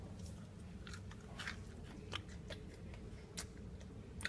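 A flaky croissant is torn apart by hand, giving close, quiet crackling and crisp snapping ticks scattered across a soft, steady background.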